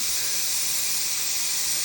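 Steam hissing steadily from a pressure cooker whistle on the third whistle while masala rice cooks, a continuous broadband rush that stays even and fairly loud throughout, with no talking.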